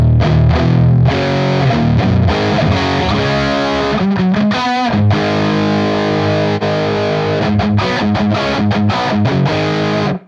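Electric guitar played through a UAFX Lion '68 Plexi amp pedal, with loud, distorted chords and riffs ringing continuously and a brief choppy break near the middle, no voices.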